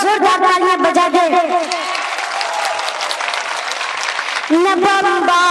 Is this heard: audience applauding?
yes